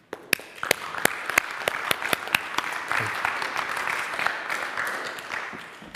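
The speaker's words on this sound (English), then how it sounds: "one more time, round of applause for everyone, please" Applause at a meet-and-greet gathering, with loud individual claps sounding near and distinct over a softer wash of crowd clapping that lasts throughout.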